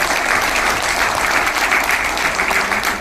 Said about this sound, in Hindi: मैं चाहता हूं एक बार ऑपरेशन सिंदूर के लिए जोरदार तालियां